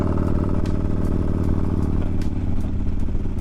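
A motorcycle being ridden in the cold, its engine a loud, steady close rumble with a pulsing low throb and some light rattling over it, no talking.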